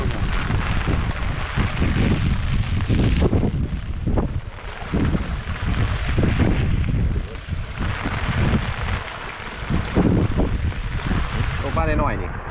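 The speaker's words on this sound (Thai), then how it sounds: "ลมเริ่มแรงแล้วนะครับ" Strong storm wind roars steadily into the microphone outdoors during Typhoon Noru while someone is fishing, a loud, continuous buffeting rush with gusty surges and someone speaking now and then beneath it.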